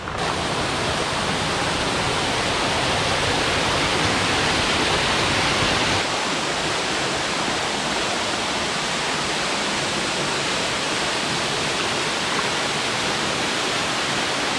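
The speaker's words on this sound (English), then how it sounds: "That's the waterfall." A waterfall roars in a continuous hiss of falling water, steady and fairly loud throughout, with a slight dip in the low rumble halfway through.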